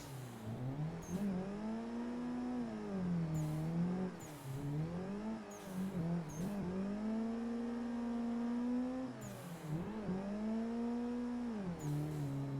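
A drifting video game car revs its engine in repeated rising and falling surges, with brief gear-change dips and sharp tire squeals, loud and close, with no talking.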